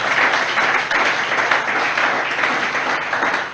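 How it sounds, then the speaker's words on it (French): Sustained applause from a church congregation during a pastor's sermon, a dense, steady wash of clapping at full level with no pauses across the few seconds. "Nous acclamons pour nos frères"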